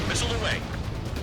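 A missile explosion in the Ace Combat 7 video game, a dense, loud rumbling blast with crackling debris that fills the whole short moment.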